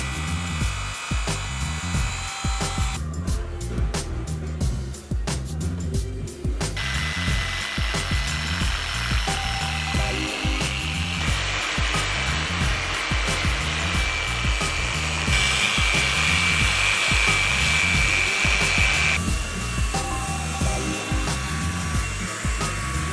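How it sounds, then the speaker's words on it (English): Machine polisher buffing Ferrari paint during a paint correction, a steady whirring drone with pitch shifts as the pad is worked across the panel, loud and close, running continuously with no talk. "So I'm continuing on with the job, and the whole polishing process took about 7 to 8 hours."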